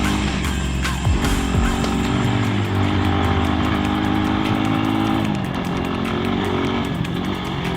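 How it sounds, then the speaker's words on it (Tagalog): A Rusi KRY 200 scooter rides over a rough road, its engine droning steadily up close while the bumpy surface adds rattles and knocks throughout, with no one speaking. "isa pang rough road, pero kayang-kaya naman dito ng mga scooter"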